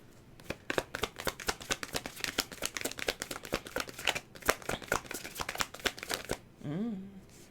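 Tarot cards are shuffled in a rapid, crisp riffling run of snaps for about six seconds, close and fairly quiet, ending with a brief murmured voice.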